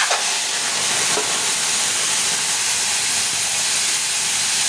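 Onion, garlic and ginger paste with green chilli sizzles steadily in a hot pan as the masala is fried down, a continuous loud hiss with faint stirring and no voices.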